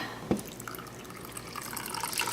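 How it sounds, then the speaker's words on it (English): A cup of water poured into a bowl of chickpea flour for falafel batter, starting with a distinct splash followed by a soft, continuous trickle and gurgle of liquid, close by and without speech. "Now the only thing I'm going to add is a cup of water."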